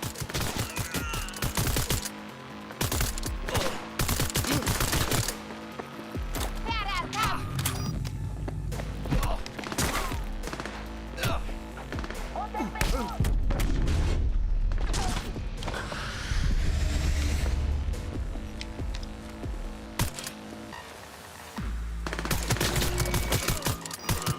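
Bursts of gunfire and rapid automatic shots ring out through a Cyberpunk 2077 firefight, with creaking and mechanical clatter between the volleys over a long stretch.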